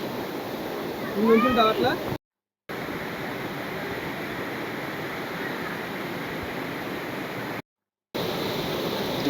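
Vibhuti Falls waterfall pouring with a steady, full roar of rushing water, close and continuous, with a brief spoken voice over it near the start.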